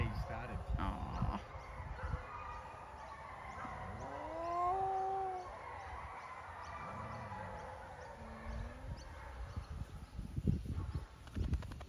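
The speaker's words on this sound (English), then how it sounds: "just in the background, the pack... Started to howl." A dingo pack howls in the background, long rising and falling tones, with a Staffordshire bull terrier joining in; people talk softly over the howling.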